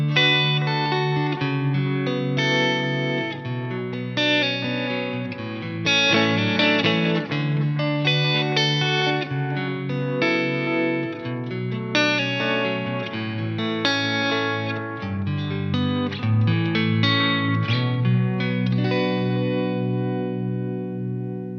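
A solid-state guitar amp plays a clean tone through stereo delay or reverb, with chords and single notes ringing out with shimmering echoes and lush tails. The playing is continuous with no voices.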